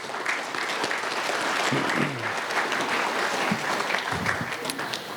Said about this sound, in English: So a round of applause for all these people, please.